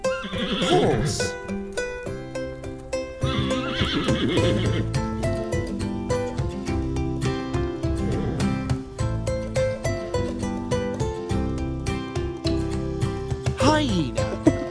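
A horse neighs with repeated loud, shrill whinnies and snorts over a backdrop of music, the calls rising and falling several times across the stretch.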